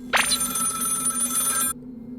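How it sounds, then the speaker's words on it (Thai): A telephone bell rings in one bright, sustained trill that lasts about a second and a half before cutting off, leaving a faint low hum. "โทรศัพท์ดัง"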